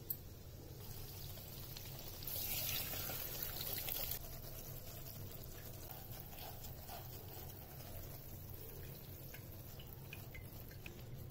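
Hot ghee being poured back into a kadhai, a soft trickling pour that swells for a couple of seconds before fading into a faint sizzle and background hiss.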